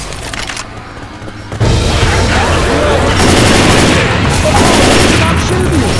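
Gunfire in the zombie shooter Left 4 Dead 2, a dense, loud, continuous barrage of rapid shots and bursts that erupts after a brief quieter stretch and rattles on to the end, with voices shouting over it.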